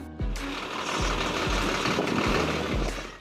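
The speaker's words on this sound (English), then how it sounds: "a 240 horsepower engine roaring to life" A 240 hp Dongfeng 4x4 dump truck engine runs steadily, a loud close mechanical drone with regular low knocking pulses roughly every half second and no voices.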